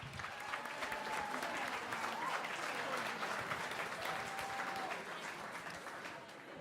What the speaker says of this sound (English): Would you give Kelly Connell a big round of applause?